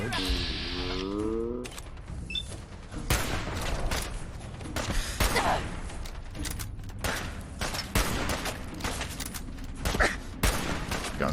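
Gunfire from the video game Fallout 4, repeated bursts of shots spread through the scene at irregular intervals, moderately loud and mixed with mechanical clicks and background game sounds.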